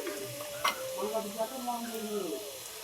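Oil heats in a pan and gives a soft, continuous sizzling hiss with a single sharp tick. A faint voice murmurs in the background.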